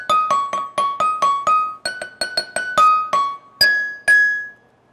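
A tuned percussion instrument with ringing, glassy metallic bars plays a short melody of about a dozen distinct struck notes, each bright attack decaying quickly, the last two notes held longer and fading out at the end.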